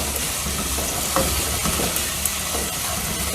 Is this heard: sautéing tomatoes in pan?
yes